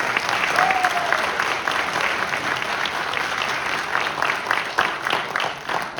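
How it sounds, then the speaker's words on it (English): An audience at a high school jazz concert applauds, a dense, steady wash of clapping close and loud that fades slightly toward the end, with a few scattered cheers. "So give him a round of applause as well."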